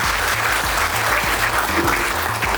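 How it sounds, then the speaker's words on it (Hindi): Sustained audience applause at a retirement farewell ceremony for a nurse, a dense, steady wash of many hands clapping close by with a low musical drone beneath, lasting throughout. "एक बार सभी के लिए और सिस्टर के लिए तालियों से स्वागत है।"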